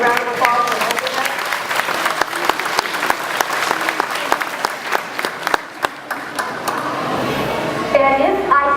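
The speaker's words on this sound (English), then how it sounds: "give our teachers and Mr. Bush and his crew a great round of applause" Enthusiastic applause from an audience at an early childhood center gathering, honoring teachers and a work crew: dense clapping with sharp individual claps standing out, fading near the end as voices and chatter take over.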